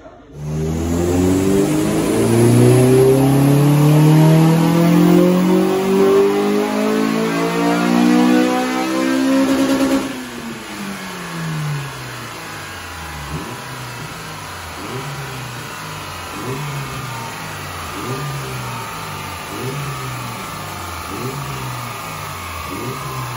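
A Honda Civic Type R EP3 with its K20 engine revs hard on a two-roller rolling road dyno, pitch climbing through the gears, then drops away to a rough, pulsing idle, loud and close with no talking.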